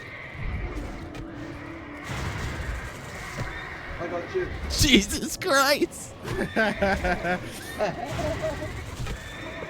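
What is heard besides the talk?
horses neighing in World of Warcraft video game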